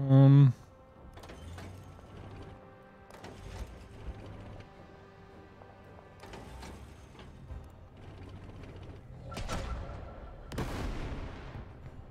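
Tank gunfire during a Battle of Stalingrad scenario in Total Tank Generals, with scattered sharp shots and mechanical clanks spread across the clip, mostly faint, and several louder bursts toward the end.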